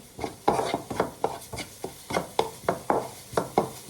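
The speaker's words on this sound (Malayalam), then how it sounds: "ഇനി ഇത് നന്നായിട്ടൊന്ന് മിക്സ് ചെയ്ത് മസാലേൻ്റെ മണവും എല്ലാം പോട്ടെ" A masala mixture is stirred in a pan with a quick, even series of about a dozen scraping strokes, close and moderately quiet, with no talking.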